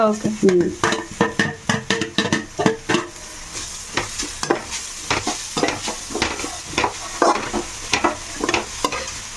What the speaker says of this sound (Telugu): ఇప్పుడు తురుముకున్న క్యారెట్ వేసేస్తున్నాను.